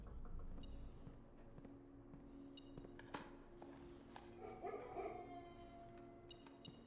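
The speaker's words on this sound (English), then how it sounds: "I hear them dogs a-barking." Dogs barking in the video game Blue Prince, a few distant yaps and barks under a steady hum of game ambience, with a brighter cluster of barking near the middle.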